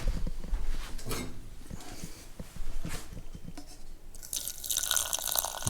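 Beans being stirred in a pot on an antique wood cookstove, with soft, uneven wet scraping and dripping sounds up close, the liquid noises growing busier and brighter toward the end.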